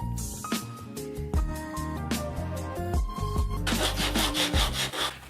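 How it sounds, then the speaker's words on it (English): A plastic surface is roughed up by hand during a Ford Fiesta ST fourth brake light retrofit. Quick abrasive scraping strokes grow denser toward the end, over a steady tonal background hum. "next thing I'm going to do is I'm going to rough up the area around it because I want the plastic to bond"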